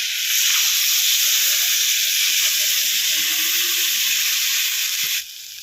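Water poured into a hot pan of frying chopped green chillies gives a loud, steady, close hiss and sizzle that holds for about five seconds, then drops off sharply.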